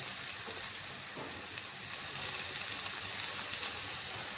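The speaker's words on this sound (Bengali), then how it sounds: "মশলাটা এখন কষাই নেব।" A spice paste of chili powder, turmeric, coriander and salt with a little water fries alongside lightly fried onions in a pan, giving a steady, moderate hiss and crackle with occasional stirring and no talk.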